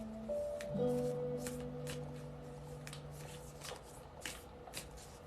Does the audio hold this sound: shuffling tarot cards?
yes